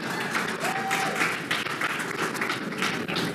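A TEDx event audience in Ikenegbu breaks into steady, dense applause that fills the room, with many hands clapping at once at an even level and a brief tonal squeak partway through.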